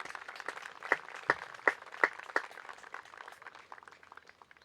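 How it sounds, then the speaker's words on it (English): Scattered clapping from a crowd at a boys' high school baseball game, with a few sharp louder claps early on, thinning out and fading toward the end. "please give all our seniors a round of applause"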